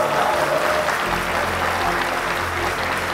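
Dense, continuous applause from a crowd at a political campaign event fills the whole stretch at an even level, with a low hum underneath.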